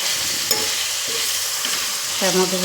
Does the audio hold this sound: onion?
yes